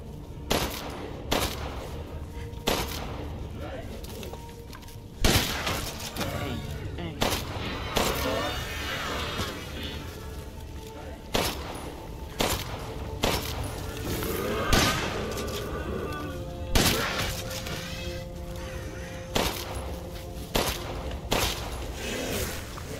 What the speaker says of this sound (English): Missed a shotgun shot because of you.